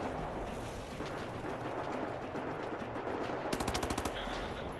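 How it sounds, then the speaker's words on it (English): Automatic gunfire in the video game Wolfenstein: The New Order, a continuous distant rattle of shots under game noise with a louder, sharper burst of rapid shots near the end. "Oh, that dude's just shooting."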